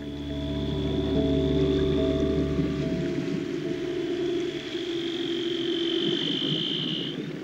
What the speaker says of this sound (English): the sound of seals calling to each other below